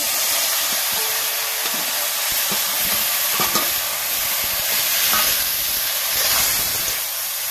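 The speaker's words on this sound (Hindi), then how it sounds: "मस्त फ्राई हो रहा है, पूरा निरामिष सब्जी" Potatoes, wild vegetables and long beans fry in an oiled pan, a steady close hiss and sizzle with soft stirring scrapes running throughout.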